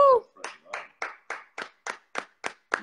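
A group of people claps in a slow, even rhythm of about nine separate hand claps, each one close and distinct, opening with a brief voice.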